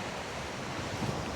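Strong wind buffets the microphone on an island disc golf course, a loud, constant broadband roar with no other sounds.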